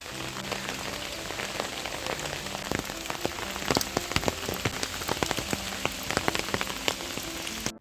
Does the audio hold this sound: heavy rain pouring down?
yes